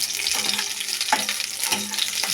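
Brinjal sizzles and fries steadily in hot oil with spice powder, a close, continuous crackle broken by a few soft stirring scrapes.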